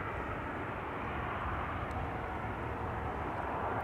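A KLM airliner bound for Vienna rumbles steadily on the runway at Schiphol Airport, a broad continuous engine roar heard at a distance, unbroken from start to finish.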